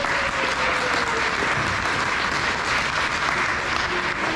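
A concert audience applauds a soloist at a band concert, with steady dense clapping filling the room for the whole stretch, loud and even without pause.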